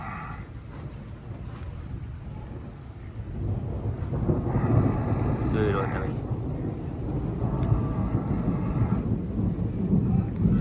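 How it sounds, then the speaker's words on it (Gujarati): Heavy rain with thunder in Patan district makes a continuous low roar and rumbling swells, while someone talks over it. "વીજળીના કડાકા ભડાકા સાથે વરસાદ"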